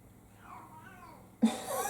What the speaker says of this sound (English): My cat is she's gone insane out there.